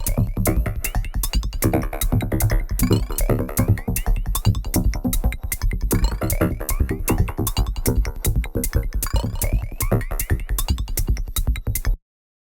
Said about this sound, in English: really nice grooving techno, almost modular sequence.